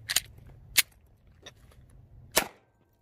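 Taurus G2C pistol fitted with a 32-round Pro Mag extended magazine firing three or four sharp, loud shots at uneven intervals outdoors, with short gaps between reports and a brief quiet stretch before the last one.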